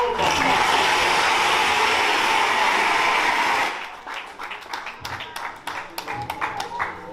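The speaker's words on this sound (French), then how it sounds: "que nous allons applaudir avec beaucoup d'enthousiasme" Wedding guests at a traditional wedding in Dallas burst into loud, sustained applause that fills the room, then fade into scattered claps and murmuring voices.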